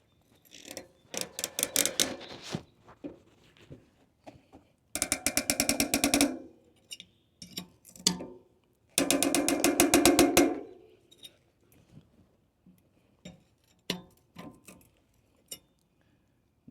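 Ratchet wrench clicking while tightening the center lock lockring on a Shimano Linkglide cassette, heard as two dense bursts of rapid metallic clicks plus scattered taps and clinks close by, without talk.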